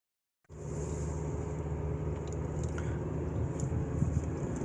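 A 2018 Opel Corsa with a 1.2-litre engine being driven, steady low engine and road rumble from inside the cabin starting abruptly and holding at an even level with no talk.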